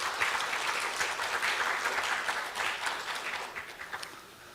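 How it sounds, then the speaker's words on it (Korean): An audience at an education forum on AI gives a hearty round of applause to welcome a university dean, a thick, even wash of clapping with a few sharper claps that tapers near the end. "힘찬 박수로 맞이해 주실 겁니다."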